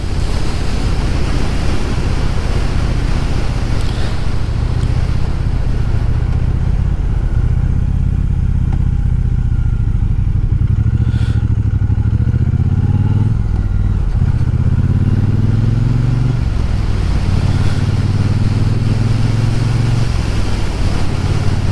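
A Triumph T120 motorcycle is ridden along, its engine droning steadily under heavy, loud wind buffeting, with the pitch rising and falling through gear changes and no pauses.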